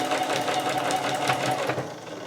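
A sewing machine stitches interfaced oxford fabric for a tucked pouch, running as a steady close-up rapid mechanical whir for the whole short stretch, with no talking.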